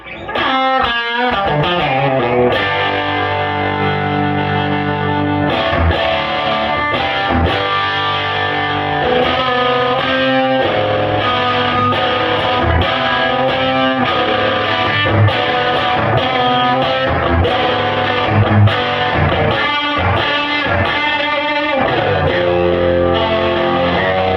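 Electric guitar through a DRV overdrive plays a long, gritty riff of chords and single notes, loud and continuous, with crunchy distortion throughout.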